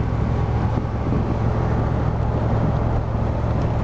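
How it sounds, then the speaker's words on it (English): A Corvette on its first test drive moves along steadily, its engine humming under a broad, even road and tire noise heard from inside the cabin. "here's the virgin test drive of the car"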